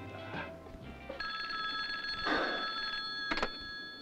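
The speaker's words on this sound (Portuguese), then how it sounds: "Tá chamando. Ele já vai atender." A telephone rings in bright repeated electronic bursts in an old Brazilian film, moderately loud and alone apart from a faint low rumble.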